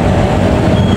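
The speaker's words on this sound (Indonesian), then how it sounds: "melintas langsung kereta api Argo Cirebon" The Argo Cirebon passenger train runs straight through Cikampek station without stopping. A loud, close, continuous rumble of rolling wheels and carriages fills the whole moment, with a faint high squeal above.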